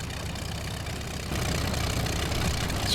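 Fairchild 24 aircraft engine in a flight simulator, idling steadily with a continuous low rumble that grows slightly louder partway through, alone with no talk.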